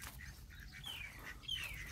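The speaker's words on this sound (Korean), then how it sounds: "오리구나. 오리농장." Ducks and chickens at a poultry farm in Thailand, with faint calls and squawks scattered over steady outdoor background noise.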